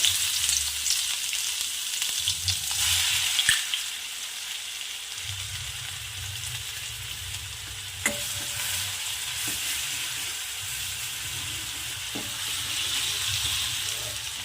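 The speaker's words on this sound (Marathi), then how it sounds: "लसण जिरं आणि मिरची याचा ठेचा ॲड करते" A crushed paste of garlic, cumin and chili sizzles steadily in hot oil, a constant close frying hiss with occasional stirring clicks and scrapes of a spoon in the pan, no voices.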